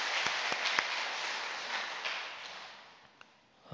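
A church congregation applauds after a choir's hymn, a fairly soft, sustained patter of many hands with a few sharper claps, fading toward the end.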